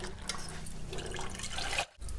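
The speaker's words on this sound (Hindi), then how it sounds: "पानी में सबसे पहले कपड़े को भिगो लेंगे अच्छे से और उसको निचोड़ लेंगे।" A cloth is soaked in plain water and wrung out for wiping a refrigerator. Water splashes and trickles steadily close by, drops fall, and the flow stops briefly near the end.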